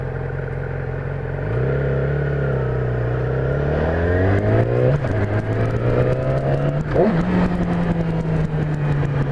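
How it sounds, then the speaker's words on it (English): A motorcycle engine is braking in first gear and drops to idle, giving a loud, close, continuous drone whose pitch sags and wavers with a couple of brief blips as the revs settle. "The engine's slowing me down, right down to idle."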